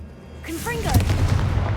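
A Confringo blasting spell explosion in the Hogwarts Legacy video game, with a troll nearby. A whooshing cast with a chirping sound rises into a loud, rumbling boom that lingers, with a voice briefly heard at the start.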